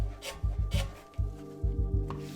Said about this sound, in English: Just use my microfiber cloth to dust a lot of these metal parts.